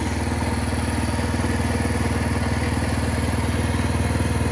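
A hydraulic crane truck's engine idles steadily nearby, its low, even rumble holding a fast regular beat that carries on without a break and with no talk.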